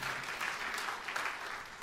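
Church congregation applauding during a sermon, a short burst of dense, even clapping from a crowd, moderately loud and continuous with no voices over it.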